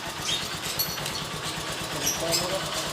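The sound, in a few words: Motor Star 175cc motorcycle engine running after carburetor conversion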